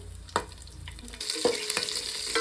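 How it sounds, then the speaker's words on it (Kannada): Spices, cashews and green chillies fry in ghee for ghee rice: a close crackling sizzle with a few sharp stirring knocks, growing louder and brighter partway through. "ಇವಾಗ ನೋಡಿ, ಇದೆಲ್ಲ ಫ್ರೈ ಆಗ್ತಾ ಇದೆ."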